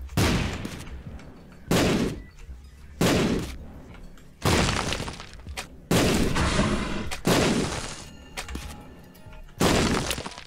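Bombs go off one after another in The Binding of Isaac beside a spiked room, seven sharp crackling blasts spaced roughly every one to two seconds, each with a bright shattering burst and quick fade, loud and alone.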